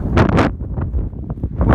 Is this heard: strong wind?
yes